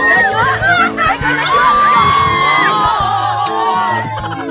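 Tourists shout and cheer in a loud, sustained crowd din of overlapping voices and whoops, with shrill higher calls rising over the noise.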